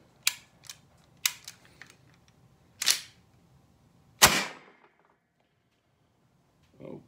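Suppressed pistol firing S45 TPP ammunition during an ammo test: several sharp, brief cracks with short tails, spaced irregularly, close and fairly loud, with a faint mechanical clack near the end.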